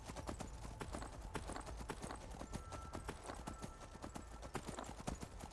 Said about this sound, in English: Skyrim horse